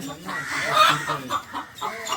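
A chicken clucks near and clearly in short, repeated bursts at a snake rescue with a rock python in Guhagar, with faint voices in the background.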